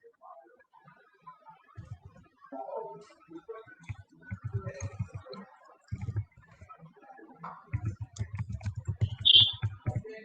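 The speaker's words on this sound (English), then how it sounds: "I think all of you just focus on what I'm typing." Computer keyboard typing comes in bursts of quick, close clicks and taps, pausing between runs, with a voice talking at moments between the typing.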